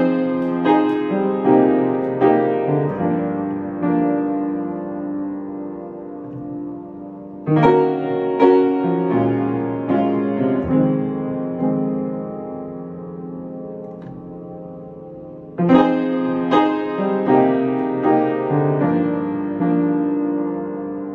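An old upright piano plays a slow, repeating chord progression, with chords struck in clusters and left to ring and decay, the phrase restarting twice with fresh attacks; close and clear, no voices.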